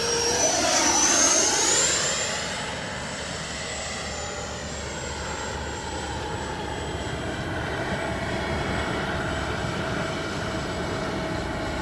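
A Flyfans L-39 model jet turbine whines past at high pitch, the tone sweeping as it flies by, then settles into a steady distant roar.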